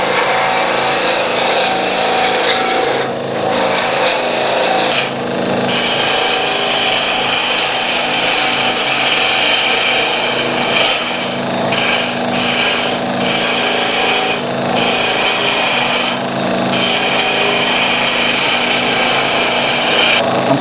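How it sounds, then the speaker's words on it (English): A woodturning lathe spins as a gouge takes a straight cut along a wooden workpiece for a lighthouse grinder, a steady loud whir with scraping bursts recurring every few seconds, no talking. "So that's all I need to do, just a straight cut from one point to the next."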